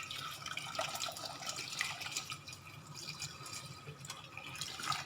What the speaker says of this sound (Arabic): نشللها مزيان وندير الماء